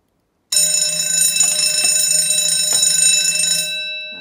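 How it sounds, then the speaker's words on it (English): An electric bell rings continuously for about three seconds in a school lab during a hydrochloric acid and pepsin meat digestion experiment, a loud steady metallic ring that starts abruptly and then fades out. "There goes that bell again."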